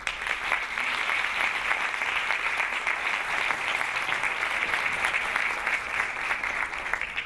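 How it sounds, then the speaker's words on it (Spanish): A large audience applauds loudly and steadily at a conference talk on emotion, welcoming two presenters onto the stage. Dense, continuous clapping fills the whole stretch with no break and no voices. "Recibimos con un fortísimo aplauso a Mario Tormo y Olivia Pérez."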